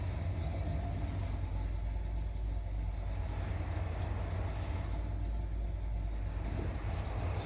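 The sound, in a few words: 1979 Corvette engine idling at about 1,000 RPM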